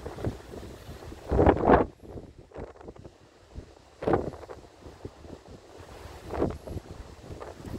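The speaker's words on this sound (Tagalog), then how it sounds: "ang taas ng lakas ng hangin" Strong wind gusts batter the microphone outdoors near a boat on the water, rising in several loud surges over a constant low roar, with no talking.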